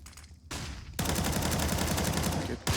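Gunfire in a Rainbow Six Siege pro match, an opening shot or two followed by a sudden, loud run of rapid automatic fire that holds to the end of the short burst.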